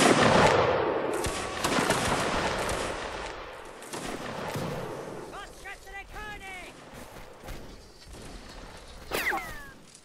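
Scattered volleys of musket fire crackle through a Napoleonic Wars line battle in a video game, sharp bursts strongest early then thinning out, with players talking over the shots throughout.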